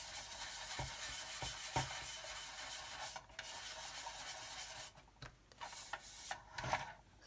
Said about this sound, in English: So we just keep sanding